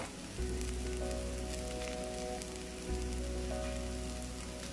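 Ginger, garlic, turmeric, Kashmiri chilli, pepper and garam masala powders sizzle in a hot pan, a steady close hiss like light rain, with faint sustained background tones and no talk.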